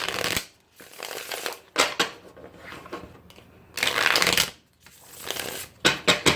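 Tarot cards are shuffled by hand in repeated riffling bursts with short pauses between, close and fairly soft, with no speech.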